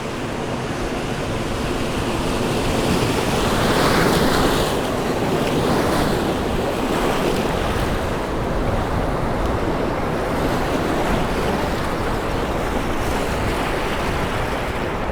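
Whitewater waves on the Petawawa River, a loud continuous rushing roar of churning water with wind buffeting the microphone, steady throughout and close by, no voices.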